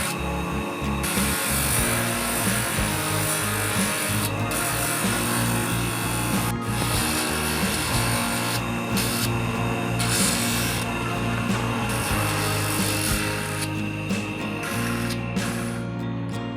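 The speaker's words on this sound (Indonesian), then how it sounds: "Selanjutnya kita bentuk menggunakan amplas." A coconut shell ring is shaped with sandpaper, a continuous close, gritty rubbing with rapid back-and-forth strokes and short pauses, alone with no talk.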